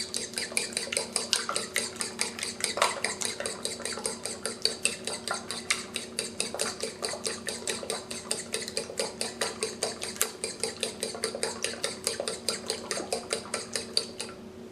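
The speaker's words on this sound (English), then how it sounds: "We can now beat 4 large eggs with a fork and set aside." Rapid, steady clinking of a fork beating eggs in a bowl, close and rhythmic, continuing without pause over a low hum.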